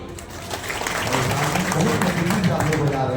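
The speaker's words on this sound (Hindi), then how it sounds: "एक बार जोरदार क्लैपिंग हो जाए खुद के नाम के लिए।" Clapping from a crowd at an event, with a voice talking over it throughout; the applause is moderately loud and continuous but mixed under the speech.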